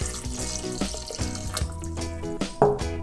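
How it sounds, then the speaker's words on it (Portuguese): Water poured into a pink lemonade mixture of strawberry and beetroot, a steady running splash lasting throughout, close and fairly loud, with no talking. "Olha, agora vou botar água"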